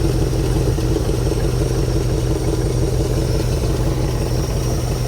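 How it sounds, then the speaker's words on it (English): A drag car engine holds a steady high idle, a loud, even mechanical drone with a fast regular pulse throughout and no voices. "Now let's see what it does at high idle"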